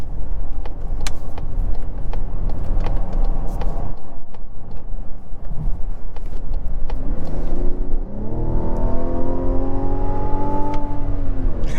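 A 2024 Mazda CX-90 Turbo SUV, a 4,700-pound, 200-inch-long vehicle, hums loudly from inside as it is driven hard through corners, with steady engine drone and road noise, then the engine note climbing in a rising whine as it accelerates.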